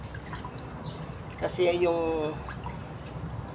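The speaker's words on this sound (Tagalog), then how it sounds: "Didiligan natin siya ng tubig, pero ganito lang ang dapat na pagdidilig para hindi mabulok." Water drips and trickles from a light watering onto a pansit-pansitan plant on a terrace, a short splashing burst in the middle over quiet background, and a voice speaks briefly.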